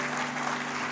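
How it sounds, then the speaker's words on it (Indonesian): A dense wash of clapping from a church congregation, steady and sustained throughout. "Tepuk tangan untuk Tuhan."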